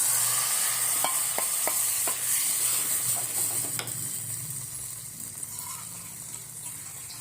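Dal poured into a sizzling tadka tempering of oil and red chilli powder in a pan, with a steady loud hiss throughout, a few brief clinks and stirring scrapes early on, and no speech.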